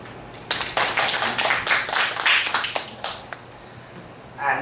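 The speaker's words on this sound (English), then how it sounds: "Ladies and gentlemen, please applaud Vincent Wang Sr." Applause from an audience greeting Vincent Wang Sr., a burst of many hands clapping close and moderately loud for about three seconds before thinning into a few scattered claps and fading.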